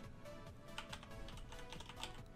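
Quick, faint keystrokes patter on a computer keyboard in a short, uneven burst, as someone types a chat command in AdventureQuest Worlds.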